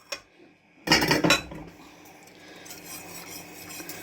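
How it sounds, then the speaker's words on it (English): Pig fat soap mixture is whisked by hand in a bowl, with a brief burst of clattering metal against the container followed by quieter, continuous scraping and rhythmic whisking, close by and no voices. "for about 5 minutes we're going to whisk by hand"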